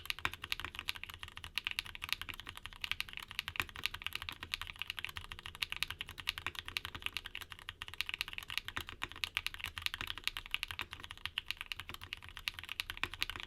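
A mechanical keyboard fitted with Aqua King switches is typed on steadily for a long stretch, giving a dense, even patter of soft, smooth keystrokes, close and alone.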